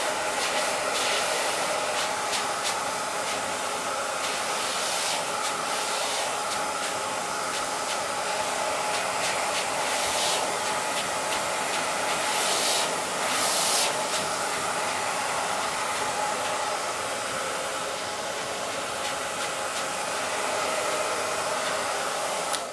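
A hair dryer blasts steadily while blow drying a man's hair, a loud continuous rushing whoosh that holds nearly unchanged throughout, with slight swells as the airflow angle shifts.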